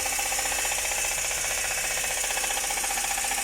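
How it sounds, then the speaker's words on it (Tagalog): A turbocharged latest-model Multicab engine runs with a steady, loud mechanical knocking clatter, a continuous rattling drone that holds throughout with no talk over it. "nagatok na mga tropa ang andar pag revolution mo"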